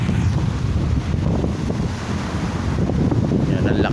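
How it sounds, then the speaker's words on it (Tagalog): Strong morning wind at Manila Bay roars and buffets the microphone continuously, a loud, steady rumble with gusty swells throughout. "ang lakas ng hangin ngayong morning"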